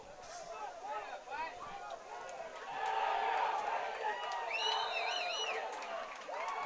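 Crowd at a high school football scrimmage at Keys cheering after a good run by the Cougars, with a steady murmur and swelling shouts and whistles at a distance, mixed with talk.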